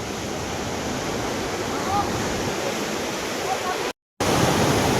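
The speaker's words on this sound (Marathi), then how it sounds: "लिंगमळा वॉटरफॉल तिकडं खाली इथं पाणी चालू आहे सध्या" Lingmala waterfall near Mahabaleshwar pours in a steady, dense roar of rushing water that fills the whole stretch evenly, broken only by a brief cut in the sound near the end.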